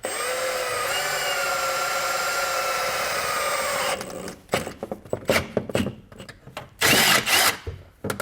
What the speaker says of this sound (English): We're gonna use a 3/8 drill bit to do so.